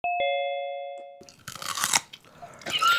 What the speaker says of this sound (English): Let me try and unmute this person who's chewing plenty